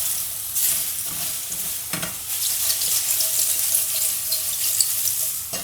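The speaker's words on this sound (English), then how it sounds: "You just fry them until they're really succulent, golden brown, and has that really firm texture I love." Food fries in a pan with a constant, close sizzle, broken by a couple of soft scrapes and stirring knocks near the start.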